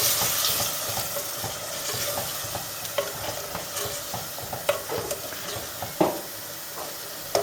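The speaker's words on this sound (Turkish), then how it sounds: "Evet şimdi kavrulmaya başladı" Dried beans sautéing in a clay casserole pot, a steady sizzle and hiss with scattered scrapes and knocks from stirring, close and continuous.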